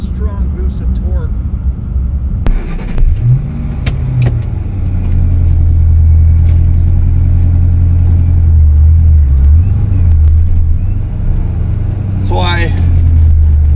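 A 2006 Saleen Extreme's engine and exhaust growl loudly as the car accelerates, a steady deep drone rising and holding near the microphone, with someone talking over the start.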